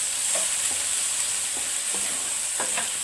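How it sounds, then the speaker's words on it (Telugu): Onion paste frying in a pan for a spiced brinjal curry, with a steady bright sizzle throughout and a few soft scraping stir strokes. "ఇది కొంచెం ఉల్లిగడ్డ పచ్చి వాసన పోయేదాకా వేయించుకున్నాం."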